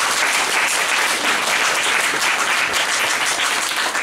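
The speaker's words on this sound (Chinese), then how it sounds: "我们热烈掌声欢迎雪莉" A hall audience at a Taiwanese civil-society gathering bursts into dense, steady applause to welcome the next speaker. The clapping is loud and continuous throughout, with no talk over it.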